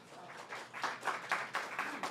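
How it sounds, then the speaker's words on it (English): Small audience clapping at an open mic poetry night in a community center, a soft, rhythmic patter of hands in steady, evenly spaced beats, fairly faint. "I appreciate you guys clapping"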